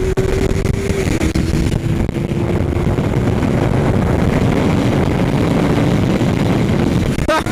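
A Yamaha R3 motorcycle ridden on the Interlagos racetrack, its engine droning loud and steady throughout with heavy wind rush over the microphone, the pitch holding fairly constant.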